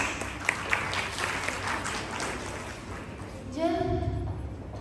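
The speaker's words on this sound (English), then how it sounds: "Let us welcome them all with a round of applause." An audience at a college of education's World Earth Day event gives a round of applause. The clapping is steady and moderately loud, then a young voice begins speaking as it fades.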